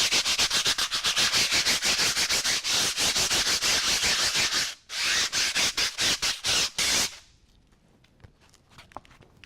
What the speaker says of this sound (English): this time I'm using some very rough sandpaper, 40 grade